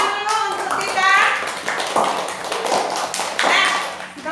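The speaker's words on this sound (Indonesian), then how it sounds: "Tepuk tangan dulu untuk Tita." Classroom applause for a student presenting group work: a brief spatter of hand claps mixed with children's voices and a teacher speaking over it.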